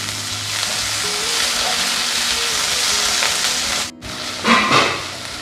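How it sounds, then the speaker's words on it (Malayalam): Onion and tomato with curry leaves sautéing in a pan for egg curry, a loud continuous close sizzle with stirring scrapes, broken by a brief pause before the frying resumes, no speech. "ഇനി നമുക്ക് ഈ തക്കാളി നല്ല പോലെ ഒന്ന് വഴറ്റിയെടുക്കണം"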